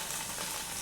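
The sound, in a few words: onions, ginger and garlic frying in pan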